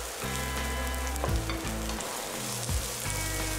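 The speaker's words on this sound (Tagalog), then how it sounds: "Then, lagay na natin yung ating sibuyas." Chopped onion sautés with garlic in an oil-filled pan for Filipino pinakbet, a close, steady sizzle broken by a few bursts of stirring and scraping.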